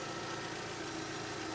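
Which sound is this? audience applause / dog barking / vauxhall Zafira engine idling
vauxhall Zafira engine idling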